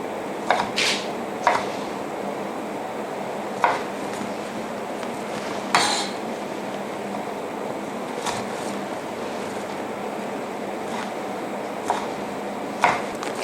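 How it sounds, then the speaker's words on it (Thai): Sparse, irregular knife knocks on a cutting board while dicing vegetables into cubes, a few sharp taps spread out over a steady hiss of background noise. "แล้วก็จะหั่นเป็นสี่เหลี่ยมลูกเต๋าเช่นเดียวกันนะครับ"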